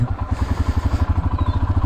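A Himy motorcycle, just back from a rear suspension fix, idles with a steady, rapid engine pulse as it sets off on a test ride, the lumpy throb close and continuous throughout.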